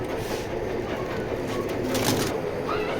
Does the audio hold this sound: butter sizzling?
no